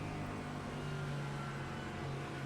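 A Mustang GT3 race car engine in the iRacing sim at Monza drones steadily with a low, constant hum, faint and even, with no talking.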